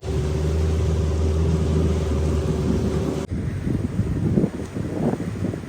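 A boat motor drones steadily under moderate throttle, loud and close, then gives way to rougher wind and water noise partway through.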